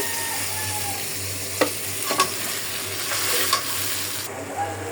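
Spice paste sizzling and frying in a pan with sweet pumpkin pieces, a steady close hiss broken by a few sharp stirring scrapes, no talking.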